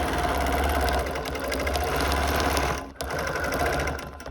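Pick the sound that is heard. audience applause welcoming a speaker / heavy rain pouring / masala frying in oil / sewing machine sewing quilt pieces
sewing machine sewing quilt pieces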